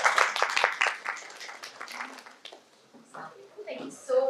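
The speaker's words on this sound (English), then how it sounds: "Please give a huge round of applause to Dr." Audience applause at a medical symposium session, a burst of clapping that fades after a couple of seconds into murmuring and faint talk in the hall.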